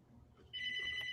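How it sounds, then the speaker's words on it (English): A telephone rings with a bright electronic tone that starts abruptly halfway through and holds steadily, fairly near, with a brief murmur of sound before it. "Answer the phone."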